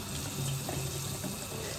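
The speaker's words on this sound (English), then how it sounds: "Wash these potatoes." Tap water runs steadily into a sink as potatoes are washed under it, a constant close hissing splash with no speech.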